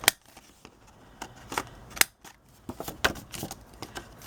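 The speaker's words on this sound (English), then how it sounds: "I'm going to round my corners" A corner punch rounds the corners of a paper envelope, giving a series of sharp, close clicks and snips at irregular intervals, some louder than others, alone without talk.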